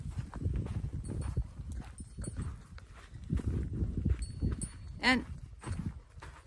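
Horses walk nearby with uneven clip-clopping hooves, mixed with footsteps and a person talking over them.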